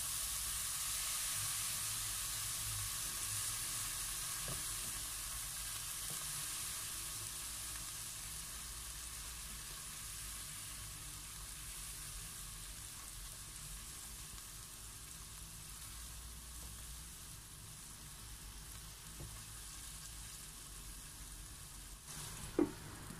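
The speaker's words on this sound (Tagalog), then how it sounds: "Saka po natin ito haluin para mag-combine po lahat ng ingredients" Chicken and bitter gourd in soy sauce sizzle steadily in a pan while being stirred, a continuous frying hiss with faint scraping and a single sharp clink near the end, and no voices.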